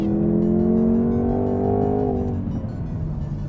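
A Jaguar F-Type P300's four-cylinder engine revs hard in dynamic mode, a loud, steady rising drone with strong harmonics that eases off after about two seconds into a lower rumble.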